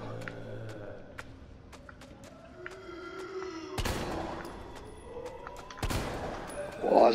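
Gunfire in Resident Evil 3 Remake, with scattered single shots and small bursts followed by two louder, heavier blasts, ending in a dull impact; footsteps and faint game ambience sit underneath.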